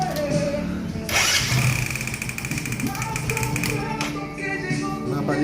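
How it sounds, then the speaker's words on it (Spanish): A Bajaj Pulsar 135 motorcycle engine starts after a brief crank and settles into a steady, close idle with a light rhythmic ticking, while a person talks briefly over it. "Ahora sí vamos a encender el motor"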